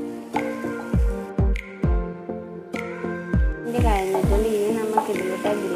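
Tomatoes cook in a pan for green peas curry while a spoon stirs them, giving repeated knocks and scrapes in a steady rhythm over a soft sizzle, close and fairly loud.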